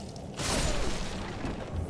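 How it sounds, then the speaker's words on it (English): Dark Souls enemies breathing fire: a sudden roaring whoosh bursts in and sustains as a loud, rushing blast of flame to the end, with no speech. "They breathe fire for no reason."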